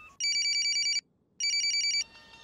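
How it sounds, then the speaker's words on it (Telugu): A telephone rings with two bursts of bright, warbling electronic trills separated by a short silent gap, close and loud, followed by faint background noise. "రింగ్ అవుతుంది."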